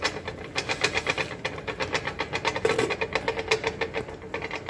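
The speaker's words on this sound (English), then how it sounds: "If you get a tapping sound like this, don't be afraid. It is just cooking." Lid tapping and rattling on an idli pan steaming watalappam, a Sri Lankan egg and coconut custard pudding, as a steady run of quick close metallic taps over a low bubbling rumble with no talk.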